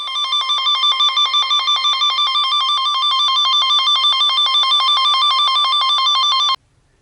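A VDIAGTOOL V200 PRO tester sends a signal tone along a car wire, heard as a loud, steady, high-pitched warbling beep that pulses rapidly and evenly for several seconds before cutting off sharply.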